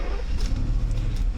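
A Mercedes SL600 engine restarts and settles into a steady low idle rumble with a faint higher whine, close by and alone, lasting only a moment.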